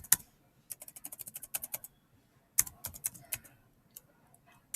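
Fingers tap out quick bursts of keystrokes on a computer keyboard, two clusters of close, faint clicks separated by a short pause.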